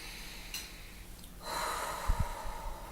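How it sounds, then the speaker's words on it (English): A person draws one slow, deep breath in through the nose, a soft airy inhale swelling near the close in an otherwise quiet setting. "Taking in a breath"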